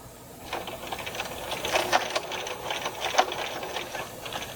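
Sewing machine back tacking along a seam on a torn bed sheet, a close, steady mechanical whir with irregular clicking through most of the stretch and no talk.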